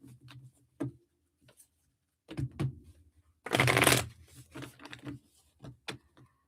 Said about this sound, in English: Let me start shuffling.